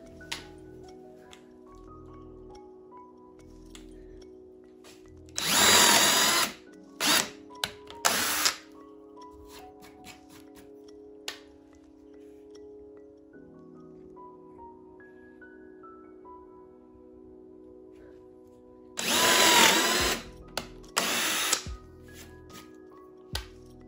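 Power drill bores bolt holes in a miter saw throat plate, with two main loud whirring bursts plus a few shorter blips of the motor, separated by quiet stretches of faint background hum and ticking.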